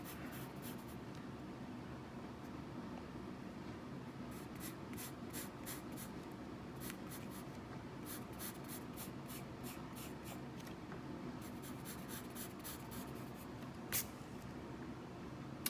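Pencil sketching a knife design on paper, a faint scratchy scribbling in short bursts of strokes close to the microphone over steady room hum, with one sharper tick near the end.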